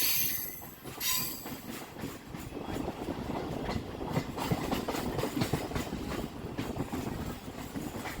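A Bardhaman-Katwa local train runs along the line with rolling wheel rumble, rhythmic clatter and a brief high squeal near the start, heard steadily from on board at moderate level.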